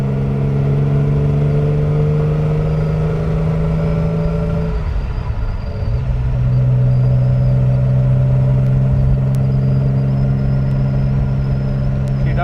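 A 1959 Aston Martin DB4 Series 1 coupe cruises down a farm road, its engine droning steadily from close inside the car; the tone dips briefly as the car shifts gear, then settles back into an even hum.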